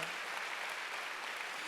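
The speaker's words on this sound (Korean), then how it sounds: "박수하세요." A church congregation at a Wednesday worship service claps in a steady, dense wash of applause that lasts the whole moment.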